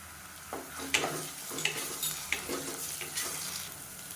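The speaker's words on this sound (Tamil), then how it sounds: "இஞ்சி பூண்டு பேஸ்ட்டு நல்லா வதங்கிடுச்சு" Ginger garlic paste sautés with onions in a pan, a soft sizzle under a series of distinct spoon scrapes and taps against the metal, fairly quiet and close.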